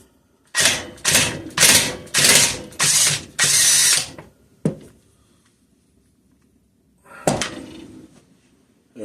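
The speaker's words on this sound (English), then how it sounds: "The impact was the only way I was going to be able to get that done" Impact wrench hammering off the timing gear nut on a Kohler opposed twin engine: six loud, close bursts of rattling in a row, then a short thump and one more brief burst after a pause.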